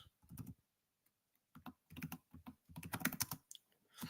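Bursts of typing on a computer keyboard, quick clustered key clicks separated by short pauses, close and fairly quiet with no voice.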